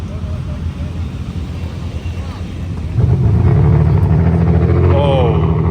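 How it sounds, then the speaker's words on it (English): A Ferrari Enzo at a car show fires up with a deep, loud burst of engine revving partway through, rising over a bed of crowd and outdoor noise and holding a rough, throbbing tone to the end. "That Enzo sounds wild"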